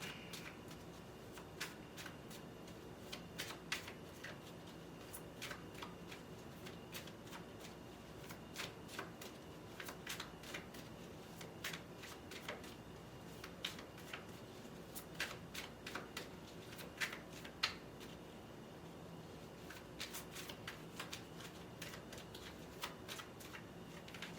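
Cards being shuffled over and over, a steady run of crisp riffling bursts close by, with no talking.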